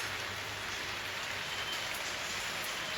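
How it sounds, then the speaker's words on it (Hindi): Steady rain falls outdoors on an April day, a dense, even hiss of drops on surfaces that continues without pause, with no voices over it. "ये देखिए बारिश"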